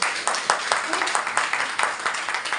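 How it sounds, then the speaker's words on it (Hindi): An audience in a business seminar claps together, a steady run of close, dense handclaps lasting a couple of seconds with faint voices mixed in. "तालियां बजाओ।"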